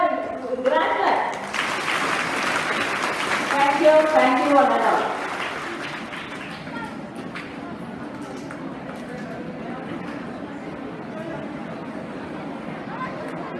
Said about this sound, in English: Let us all give us all a grand clap.